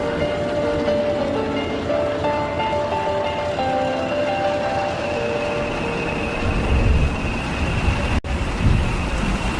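A railway train runs steadily along the line, a continuous rumbling roll with faint clattering and squeal, close and loud throughout with no talk.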